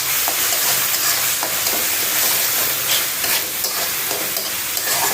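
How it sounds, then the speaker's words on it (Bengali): Tangra fish fries in a pan with onion and ground spice paste, giving a loud, dense, continuous sizzle and hiss close by. Faint stirring scrapes sound now and then. "ট্যাংরা মাছ বুনা করতেছি একটু"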